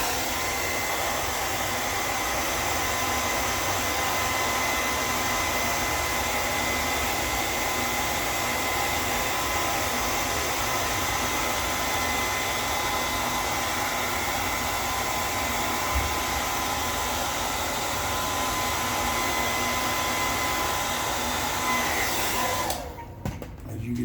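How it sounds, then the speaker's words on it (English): A hair dryer blows steadily on a beard during a home trim, a constant close whooshing roar that runs unbroken for about 23 seconds before cutting off abruptly at the end. "I'm going to blow dry through this, get this straight"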